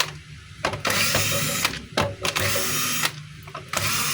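Power driver whirs in short bursts as screws come out of the housing of a DeWalt D28720 14-inch chop saw, with brief pauses between runs.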